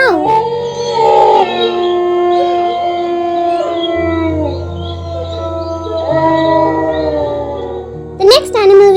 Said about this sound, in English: the sounds that a wolf makes are howl and growl